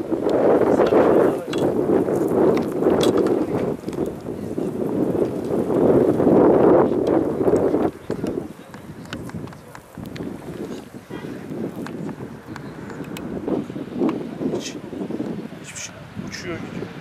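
Strong wind gusts roar outdoors on farmland, with leaves rustling and broadband buffeting against the microphone; the blowing rises and falls, heaviest in the first half, with a voice faintly present.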